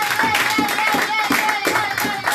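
A church congregation claps in unison to acclaim the king of kings, loud and close, with rhythmic, evenly spaced claps over a sustained tone and mixed crowd voices.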